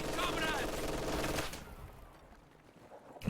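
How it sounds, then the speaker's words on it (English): Machine gun and sniper fire from a World War II strategy video game, with an MG42 among the weapons, crackles densely under a talking commentator before thinning out into quieter scattered shots. "conscripts out of position now under MG42 and sniper fire"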